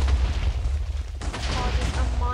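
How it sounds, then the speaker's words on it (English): A large chain of TNT blocks detonating in Minecraft, with heavy rumbling booms and crackling blasts rolling continuously, broken by a brief dip and then a fresh burst, while a voice talks over it. "Causes a monumentally humongous explosion."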